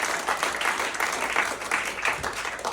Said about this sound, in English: give a big round of applause for yourselves being here